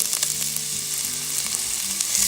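Garlic and onion fry in a pan with a steady, dense sizzle, close and moderately loud, with no talking.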